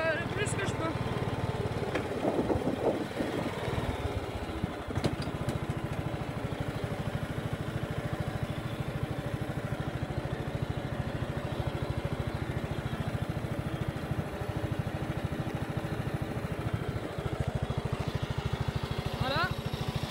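A Honda lawn tractor tows a fairly large trailer uphill, its engine giving a steady, even hum. Someone talks over the engine the whole time.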